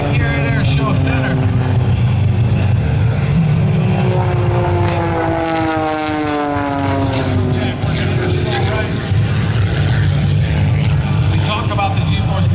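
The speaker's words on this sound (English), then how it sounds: "John with the powerful engine, as you see a little bit of a higher climb at Airshow left." A Blue Angels jet roars past during a homecoming airshow and climbs with its powerful engine, producing a loud, sustained rumble with a sweeping pitch change as it passes. An announcer talks over the noise.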